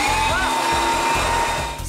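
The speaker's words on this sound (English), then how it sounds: "you have to step into the ultimate blow dryer. This is an air shower." Air shower at a clean room entrance for the Hubble Space Telescope blowing a steady, loud, broadband rush of air, like an enormous blow dryer, running continuously and easing slightly at the very end.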